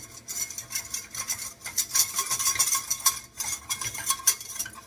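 A whisk stirs flour into a sauce in a pan, giving rapid, uneven metallic scraping and clinking against the pan in close bursts.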